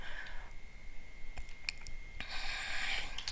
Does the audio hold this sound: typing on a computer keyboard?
yes